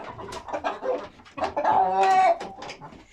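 Hens and a rooster, including an Arab breed, cluck in a village coop being cleaned. Several clucks and squawks overlap in a busy, close run, with one longer drawn-out call in the middle.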